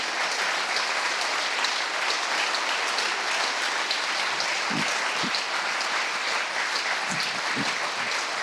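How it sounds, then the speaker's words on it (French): A festival audience gives a steady, dense round of applause for a guest at a comics event honouring Gotlib, loud and continuous throughout, with a few faint voices mixed in. "merci de l'encourager avec des applaudissements tout à fait mérités"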